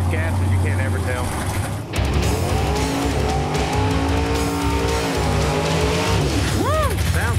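An old school gasser drag race car makes a pass at a drag strip, its loud engine roaring and rising in pitch as it accelerates, with crowd and commentary voices underneath.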